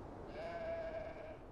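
A single sheep bleating in the game Beyond: Two Souls, one drawn-out wavering bleat at moderate distance over a quiet outdoor background.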